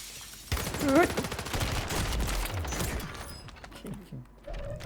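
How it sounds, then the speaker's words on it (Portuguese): Rapid bursts of gunfire from a video game crackle loudly and steadily, with someone talking over the shooting. "Troca de tiro bizarro"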